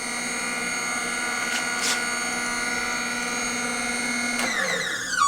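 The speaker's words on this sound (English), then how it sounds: "It locks down, and I put the machine on, and it's ready to cut." A valve guide cutting machine in a machine shop runs with a steady, loud whining hum, with sharper bursts as the cutter bites in and a shift in tone near the end.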